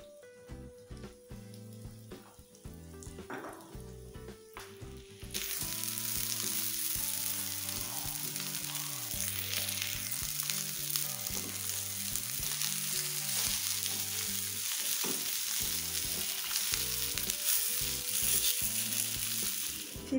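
Chicken fillets frying in olive oil in a frying pan, a loud steady sizzle that starts after about five seconds and carries on to the end over light background music.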